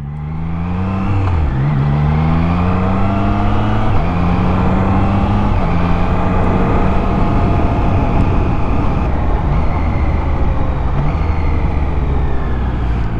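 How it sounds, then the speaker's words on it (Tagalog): A Triumph Trident 660 three-cylinder engine roars loud and close, stepping through several sharp auto-blip downshifts with quick rev spikes before settling into a steady, hard-running drone. "Sarap sa ears nun guys, auto blip."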